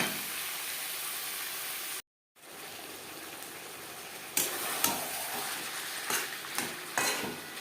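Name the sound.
chicken and potato curry cooking over high-medium flame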